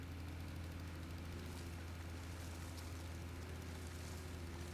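Tractor engine in the farming game Pure Farming 18, a steady low droning hum that holds unchanged throughout, with no talk over it.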